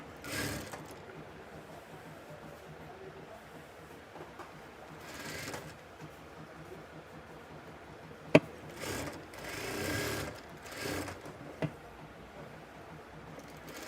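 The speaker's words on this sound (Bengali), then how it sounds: "2টা শোল্ডারকে একসাথে মিলিয়ে সেলাই করে নেব।" An electric sewing machine stitches together the shoulders of a kameez, running in quiet bursts of whirring with pauses and a couple of sharp clicks, fairly faint and close, with no talk.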